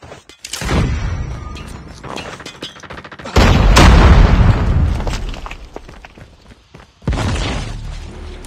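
Call of Duty Mobile ranked Search and Destroy match: a frag grenade blast and bursts of gunfire come as loud booms and rattling shots, with a lull before another heavy hit.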